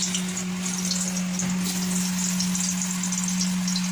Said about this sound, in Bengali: আগে আলুগুলোকে ভেজে নিতে হবে মনের মতো করে।